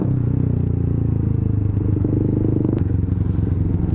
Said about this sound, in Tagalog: So that is basically how you rev match.